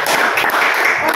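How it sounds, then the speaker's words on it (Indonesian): Brief burst of dense, steady applause from a classroom audience just before a group presentation, filling the whole moment with no voices over it. "Tepuk tangan."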